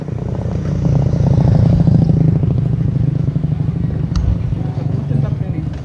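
A 1974 Triumph Bonneville T140V 750cc motorcycle idles nearby with a loud, rapid, uneven putter that swells and then settles into a steady chugging rhythm.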